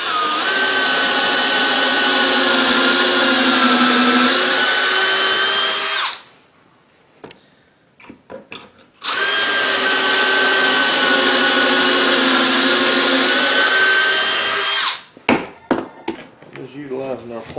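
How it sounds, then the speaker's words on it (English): A power drill whirs loudly in two long bursts, each lasting several seconds, drilling holes while building a plywood kiosk, separated by a short pause with a few clicks and knocks, followed by more clattering. "We're going to snip it in and drill its 2 holes."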